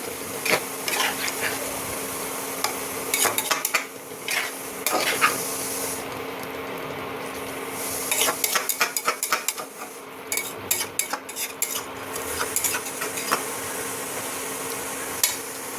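Spiced water poured into mashed eggplant frying in a pan, followed by busy stirring with a metal utensil: rapid scraping and clinking against the pan over a low sizzle, close and fairly loud.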